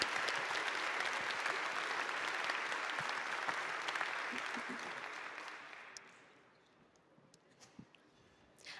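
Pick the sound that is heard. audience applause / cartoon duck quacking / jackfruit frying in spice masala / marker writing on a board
audience applause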